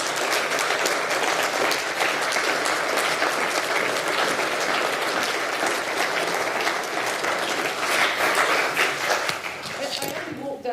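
Applause from an auditorium audience fills the whole stretch as steady, dense clapping, loud and sustained, easing slightly near the end.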